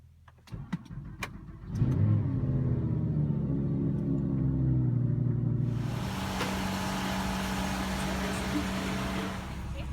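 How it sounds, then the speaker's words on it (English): An Audi R8 starts after a few clicks and knocks, then holds a loud, low, steady engine drone. The drone rises into a broader driving roar partway through and stays close and continuous to the end. "we're gonna hop in the R8, make some noise on our journey there"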